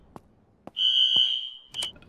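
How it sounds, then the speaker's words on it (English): An alarm in the survival video game Vein sounds a steady high electronic tone for about a second, falls silent briefly, then returns in a short burst, with a few soft clicks and thuds around it. "Don't want that alarm going off."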